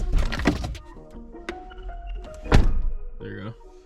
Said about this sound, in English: I think if you open the door.